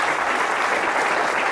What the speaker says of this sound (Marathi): स्मितासाठी खरोखरच आपण जोरदार टाळ्या वाजवूया